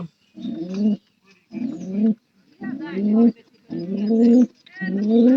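Pigeons in a loft coo in five rhythmic throaty bursts with short pauses between them. The calls are loud and close, with no talk.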